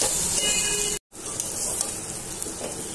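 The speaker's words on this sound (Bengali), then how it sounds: "দিয়ে এটাকে একসঙ্গে ভালো করে মিশিয়ে ভালো করে ভাজতে হবে।" Potatoes with chilli powder fry in a pan, a steady close hiss and sizzle that drops out for a moment before carrying on, with no talking.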